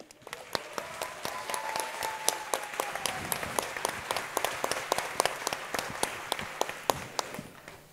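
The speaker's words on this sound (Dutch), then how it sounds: "Geweldig applaus voor Kurt." An audience claps enthusiastically at an outdoor theatre performance during a town festival in Eeklo, a steady wash of applause with sharp individual claps close by.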